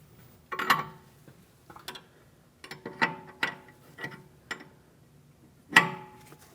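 Scattered metallic clicks and ticks come from a wrench tightening the jam nut against the outer tie rod end on a 2016-2025 Chevrolet Malibu. There are about eight close, sharp bursts with short pauses between them.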